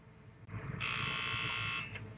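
A grain scale's horn signal during harvest, one steady electronic tone about a second long, fairly faint against low background rumble.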